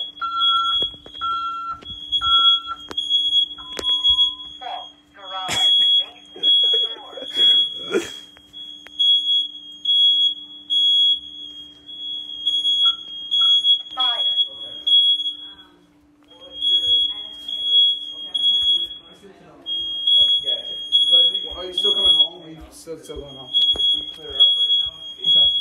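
A house smoke and fire alarm system beeps in rapid repeating high-pitched pulses, loud and steady with brief pauses, while people talk over it through much of the clip.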